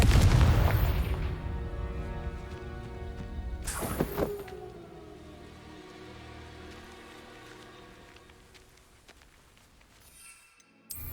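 Confringo fire spell blasts in Hogwarts Legacy: a heavy booming burst at the start, a second sharp explosive crack around four seconds with a ringing tail, then rumbling fading combat noise and a final pop.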